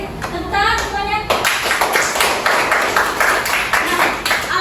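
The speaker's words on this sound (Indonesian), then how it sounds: "Tepuk tangan semuanya." Children in a classroom clap their hands together after a lesson on the digestive system, a brisk, fairly loud burst of clapping with voices audible at the start and mixed in throughout.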